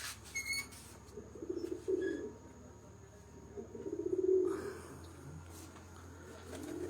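Record-holding champion racing pigeons, all hens, coo softly in their loft in two low, rhythmic bursts, with faint insect chirring and a few distant clicks in the background.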